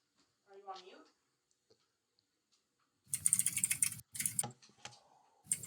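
Typing on a computer keyboard during a live stream call. Fast, close bursts of clicking keystrokes start after a quiet stretch and break off in short pauses, with a faint voice heard early on.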